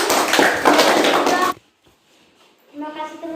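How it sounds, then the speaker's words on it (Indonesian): Classroom applause for a student presentation group, a dense burst of clapping from many hands lasting about a second and a half, then near silence before a voice begins speaking. "tepuk tangan untuk nomor 1"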